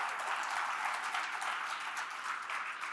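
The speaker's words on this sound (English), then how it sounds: "Give yourselves a round of applause for doing that activity." A conference keynote audience applauds after a group activity, producing a soft, even, sustained patter of many hands from a distance with no voices.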